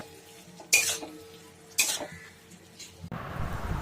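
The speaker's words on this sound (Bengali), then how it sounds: "কিছুক্ষণ স্টিয়ার করতে থাকবো।" A spoon scrapes and stirs okra through tomato gravy with ginger in a pan, two sharp clattering strokes followed by a rising sizzle at the end.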